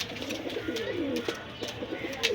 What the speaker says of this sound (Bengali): একেবারে পারফেক্ট কবুতর, গলায় লাল কবুতর